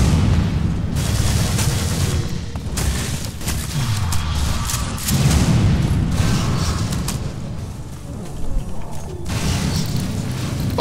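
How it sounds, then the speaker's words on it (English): Explosions and blasts in a Star Wars: The Phantom Menace video game, a dense run of booming impacts and gunfire-like bursts filling the whole stretch at a loud level. "Fucking quit it with the explosions."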